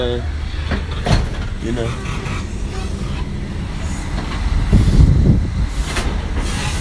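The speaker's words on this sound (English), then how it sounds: "Guys, I'm out here on the train." A train riding on rails gives a loud, steady interior rumble with rhythmic clacks and a swell of wheel noise toward the end, and a voice talks over it.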